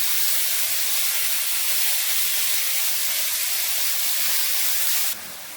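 Marinated beef for homemade shawarma hits a pan of hot vegetable oil and sizzles loudly in a steady, dense hiss that holds evenly before dropping off abruptly near the end.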